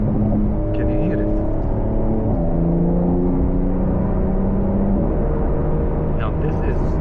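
A car in Sport mode rises and falls in engine pitch as it accelerates and shifts while driving on the road, a steady close whirring rumble with no talking.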